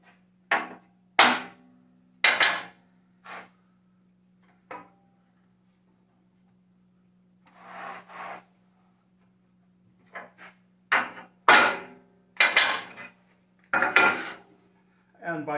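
Hammer taps on a wooden piece set in a dowel alignment jig while repairing a laundry hamper; a dozen or so sharp, close knocks come in clusters, with a steady low hum underneath and quiet stretches between strikes.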